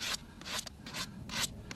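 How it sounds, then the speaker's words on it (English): A horse's hoof wall is sanded on the bottom while fitting a hoof boot, giving repeated rough rubbing strokes in a steady back-and-forth rhythm, close and moderately loud, with no talking. "I'm going to do some sanding on the bottom, but not the sole, just the hoof wall"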